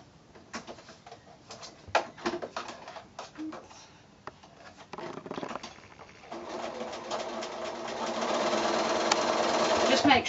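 A sewing machine joins the rows of a quilt block made from 2 1/2-inch squares. Scattered clicks and handling come first, then a steady stitching hum that grows louder, with pigeon-like coos and speech faintly heard.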